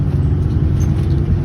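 Car engine rumble at a drag strip racetrack, a steady loud low drone filling the whole moment without breaks or distinct passes, close and continuous.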